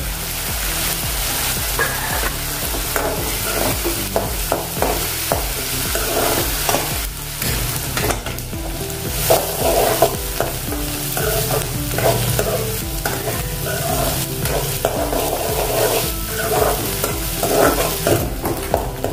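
Chopped onions and green chilies frying in a pan, a continuous dense sizzle with repeated scraping stirs from a spoon, steady and close with no talking.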